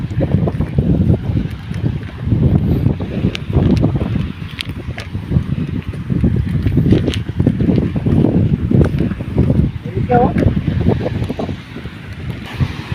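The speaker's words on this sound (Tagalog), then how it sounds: "Grabe kalakas ng hangin dito." Strong gusting wind buffets the microphone with loud low rumbling roars throughout, rising and falling in waves outdoors on a wide seashore.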